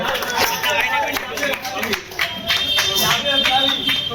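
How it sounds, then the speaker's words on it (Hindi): Dense crowd applause fills a political welcome event in Moradabad where guests are being honoured with a turban, a steady patter of many hands with a voice speaking over it. "जोरदार तालियां"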